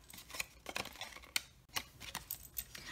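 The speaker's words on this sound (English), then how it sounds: "Just get your scissors in there and snip." Paper snips cut gold foil in a quiet craft setting, a series of faint, crisp snipping clicks in an irregular rhythm.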